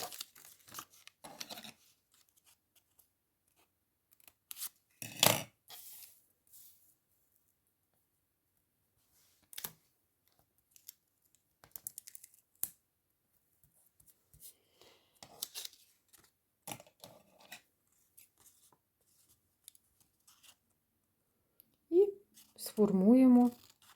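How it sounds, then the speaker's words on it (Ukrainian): Scissors snipping fabric while a light garment is sewn and trimmed, short scattered cuts and paper-like rustles spread through the clip, quiet and close, with brief speech near the end. "Зараз ще підріжемо трошечки."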